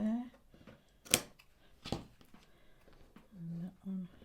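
Scissors snip off the corners of a paper pinwheel in two sharp, close cuts, with soft talk and handling noise between them.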